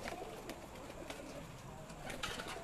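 Pigeons coo softly at a rooftop loft in Sialkot, low rolling calls repeating faintly against a background of distant chatter and ambient noise.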